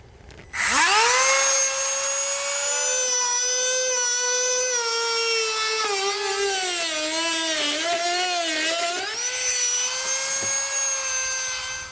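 A Dremel rotary tool cuts a thin plastic grille while setting up a 2018 Jeep Grand Cherokee base plate kit, giving a close, high-pitched whine that spins up, dips and wavers in pitch as it bites into the plastic, then steadies.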